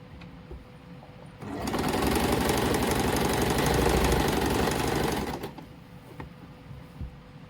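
A sewing machine runs a steady, loud, fast stitching burst of about four seconds along the side seams of a suit, starting and stopping abruptly, with quiet handling noises before and after.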